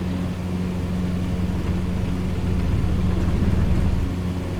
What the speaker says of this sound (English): You can hear the wings crackling and all the interior sounds.